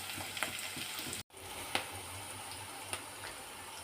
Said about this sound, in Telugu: ములక్కాయలు కూడా మంచిగా ఫ్రై చేసుకోవాలి ఆయిల్లో